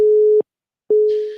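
Busy tone on a phone line after a caller drops off a live radio call-in show: two loud, steady beeps separated by a short silence, heard alone with no talk.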